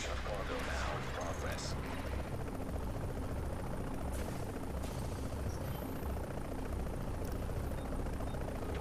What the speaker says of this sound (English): hold tight until the helicopter arrives